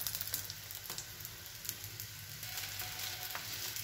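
Egg paratha frying in oil in a pan, a soft steady sizzle with faint crackles and an occasional light clink of a utensil, close but quiet, with no one speaking.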